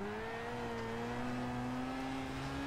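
Racing car engine in the Project Cars simulation game holds a steady, smoothly rising drone at constant throttle, loud and alone without any talk.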